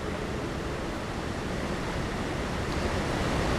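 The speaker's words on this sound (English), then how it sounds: "Waterfall is a bit loud and annoying." Loud, constant rushing roar of a waterfall in the ARK video game, a broad dense wash of falling water heard up close and alone, unchanging from start to finish.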